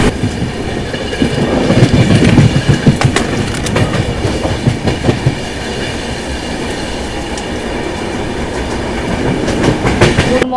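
Passenger train on the Howrah to Dibrugarh route rolling along, with steady rumbling wheel clatter and carriage rattle close by, louder for the first few seconds and then continuing evenly.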